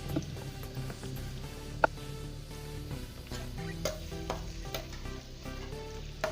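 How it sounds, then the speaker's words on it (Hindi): Finely chopped onions fry in hot oil, a steady close sizzle with occasional stirring scrapes and light clicks from the pan, no voices. "अब हम इसमें प्याज डालेंगे बारीक कटी हुई।"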